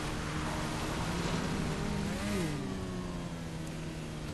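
A motorcycle engine revs in the GTA V racing game, with steady engine drone and a rising-then-falling pitch sweep midway, loud and continuous without any voices.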